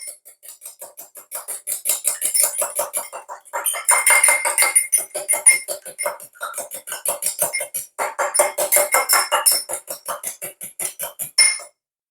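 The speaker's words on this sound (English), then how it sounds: "Now we're going to get an egg. Go ahead and whisk this up." An egg is whisked in a bowl, a fast steady clinking of whisk against the dish in long bursts with brief pauses, close and clear with no one talking.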